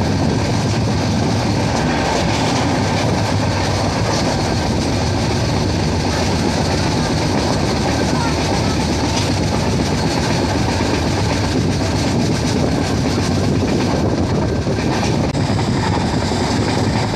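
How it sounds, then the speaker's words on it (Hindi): A train rumbles steadily through a railway station without stopping, with rhythmic clickety-clack of wheels, loud and close, continuous throughout with no talking. "तो हमारी ट्रेन चिकना रेलवे स्टेशन को भी स्किप करके निकल गई।"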